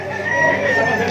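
Gamecock of the White Cockney bloodline crowing at a busy Malabon pet market, a sustained crow close and loud over a steady background of market bustle.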